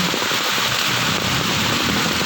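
Heavy typhoon rain pours down in a loud, constant broadband hiss, drumming hard on nearby surfaces without letup.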